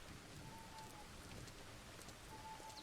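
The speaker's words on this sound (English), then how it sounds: "Of course, the rain effect." Steady rain falls in the Lumberjack's Dynasty video game, a faint, even hiss of drops with no talk.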